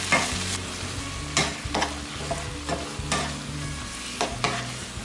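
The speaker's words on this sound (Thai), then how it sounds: "You stir fry until the vegetable is cooking well." Garlic chive flowers and shrimp stir-fried in a pan, with a steady close sizzle broken by several loud scraping stirs of the spatula, no voices.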